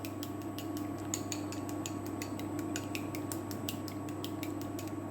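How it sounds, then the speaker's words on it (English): Miso sauce being whisked for a homemade noodle bowl gives a fast, regular run of light clinks and taps against the bowl over a steady low hum. "whisking that up"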